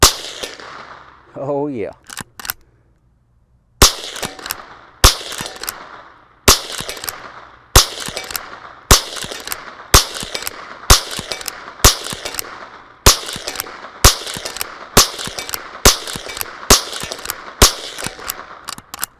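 Repeated .22 LR shots from a CZ 457 rifle striking a large steel target about 90 yards away, a steady series of sharp, evenly spaced cracks with faint metallic pings after a brief spoken remark.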